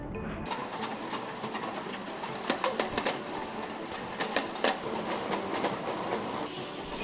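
A high-speed conveyor in a water bottling plant carries upright bottles toward sanitation, giving a steady mechanical rumble broken by sharp, close clinks and clacks of bottles knocking together at irregular intervals.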